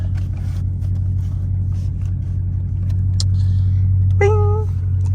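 A catless Dodge Scat Pack drives with a heavy, continuous low exhaust drone, very loud and close from inside the car, with a brief high squeal near the end.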